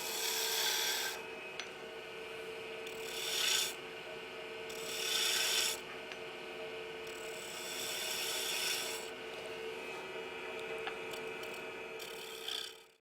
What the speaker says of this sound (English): And I'll cut these corners away.